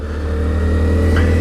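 A 2014 Honda Grom motorcycle engine hums while riding, a loud, steady mid-pitched drone close by with no talk over it.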